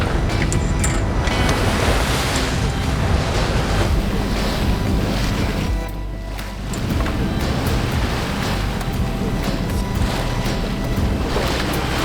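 Heavy ocean waves crash and surge around a motoring boat in confused water near Steep Point in the Indian Ocean, with a low engine drone and gusting wind buffeting the microphone throughout.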